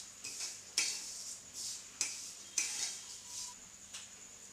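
Vermicelli roasting in a pan over low gas, heard as quiet scraping and light clinks of a spatula against metal at irregular intervals, fairly faint and close, with no talk.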